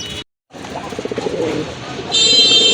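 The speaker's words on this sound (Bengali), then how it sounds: "রাজগোল্লার একটা নর কবুতর, লেজ পাখা সম্পূর্ণ সাদা" Pigeons held at a pigeon sale give a run of soft, rhythmic coos close by, after a brief silent gap. A steady higher-pitched background hiss rises toward the end.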